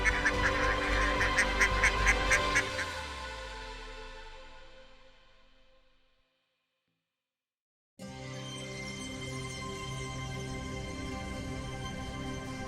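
North American ducks call in a loud burst of rapid, repeated quacks and honks that fade out into silence, then a second stretch of quieter overlapping duck calls starts abruptly and carries on steadily.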